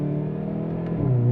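A 2022 Hyundai i30N Fastback engine climbs high in the revs after a manual downshift, a loud, close, rising tonal drone that swells toward the end with no talking.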